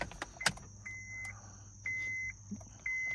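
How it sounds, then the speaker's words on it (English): A new key jingles and turns in the ignition of a 2006 Honda Civic, followed by three repeated electronic beep tones, each held for about half a second, in a quiet car. "Turn on the switch with the new key."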